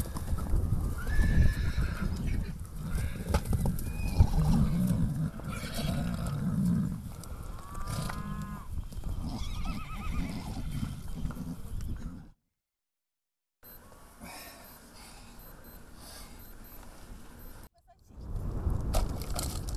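Horses kept by Kazakh nomadic herders in China neigh and whinny while hooves clip-clop and shuffle nearby, with several drawn-out calls over busy trampling, then brief silences before the herd noise resumes.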